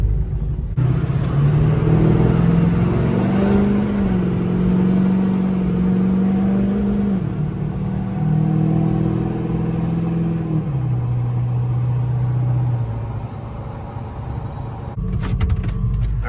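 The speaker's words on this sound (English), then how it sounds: "Quick first test drive before I load her on the trailer and bring it home." A Duramax truck on a test drive, with a loud, close engine rumble and drivetrain drone holding steady, shifting pitch as it cruises, plus a thin high whine running through, and no talking.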